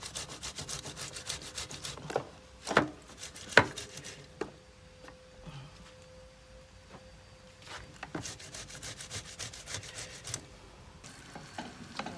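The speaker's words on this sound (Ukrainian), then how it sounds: "А за той час ми натремо буряка." Beetroot is grated by hand in a home kitchen, a steady rasping scrape with scattered sharper knocks and clacks over several seconds, with no talking.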